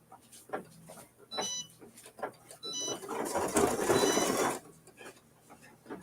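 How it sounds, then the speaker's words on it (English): A sewing machine stitches a twine tack-down on a strawberry mini-quilt block, whirring in short bursts with rhythmic mechanical clicking and one longer, louder run near the end, close and clear. "I'll let this do its thing and stitch the twine tack down"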